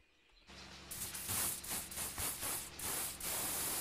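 Spray paint hissing from an aerosol can onto a boombox in a steady broadband rush, broken into several short, rhythmic bursts over a few seconds, close and fairly loud with no talking.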